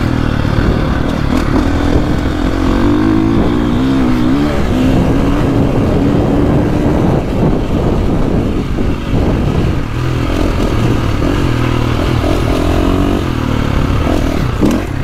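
Loud, close KTM 450SXF Factory Edition dirt bike engine revving continuously, a raspy buzzing roar rising and falling in pitch with throttle changes.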